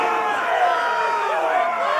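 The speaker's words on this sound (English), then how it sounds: "We cannot let the crowd go wanting!" In the Game of Thrones Telltale video game, an arena crowd roars and cheers loudly, a dense wash of shouting voices sustained for about two seconds.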